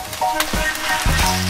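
Pork belly frying in a pan, a moderate sizzle with a couple of brief stirring clatters, with music playing behind it.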